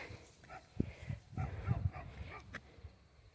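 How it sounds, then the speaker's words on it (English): A white dog barks from down below during an outdoor dog walk near sunflowers, a few faint, distant woofs scattered over rustling ambient noise. "There's a white dog down there barking at us."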